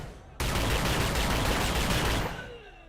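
Gunfire in the video game The Chronicles of Riddick: Escape From Butcher Bay, a loud dense burst lasting about two seconds that starts abruptly and then fades into a ringing tail, with no talk over it.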